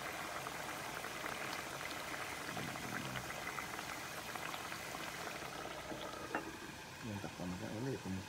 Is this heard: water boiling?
yes